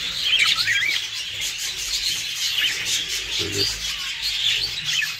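Jumbo crested budgerigars chirp in an aviary, a dense continuous chatter of many small birds close by, with a brief spoken word in the middle.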